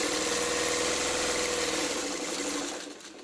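Sewing machine stitching a quilt block, a steady close motor whir with fast needle chatter that eases off and slows near the end, no voices.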